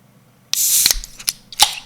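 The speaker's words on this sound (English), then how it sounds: "Did you hear the canister? It, like, squealed at me." A can of non-alcoholic Guinness is cracked open close up. A sharp pop gives way to a brief hissing squeal and a few bright clicks and spurts, with no talking.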